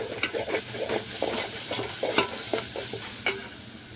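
Spiced tomato masala with coriander and turmeric powder frying in oil in a pan, stirred with repeated close scraping strokes over a steady sizzle, with no talking.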